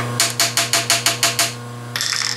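A metal part clamped in a machine vise is tapped down with a hammer: seven crisp, evenly spaced metallic taps, close and loud, followed by a short rapid rattle.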